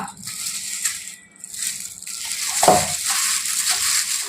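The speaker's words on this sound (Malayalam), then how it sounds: "നമ്മളിതൊന്ന് മിക്സ് ചെയ്യാം എന്നിട്ട് നല്ലോണം കൈകൊണ്ട് തന്നെ കുഴച്ചെടുത്ത്" Chicken sausages being kneaded by hand in a thick marinade, a close, wet squelching and stirring texture with soft rattles of the bowl, steady and moderately loud throughout with no talking.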